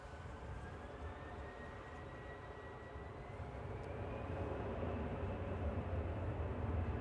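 An EasyJet Airbus A320 Classic at Manchester Airport rumbles as a steady, fairly distant jet engine drone with a faint whine on top, slowly growing louder over several seconds with no one speaking.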